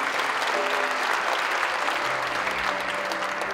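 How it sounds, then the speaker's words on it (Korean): Sustained applause from a church congregation at a national interchurch prayer gathering marking the March 1st Movement anniversary, a steady wash of many hands clapping, fairly distant and even throughout with a faint tone underneath. "박수 좀 해주십시오"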